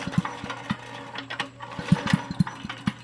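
A broken tiller engine with no compression turns over, its piston knocking out a quick, uneven string of sharp low thuds over a steady mechanical hum, close and moderately loud.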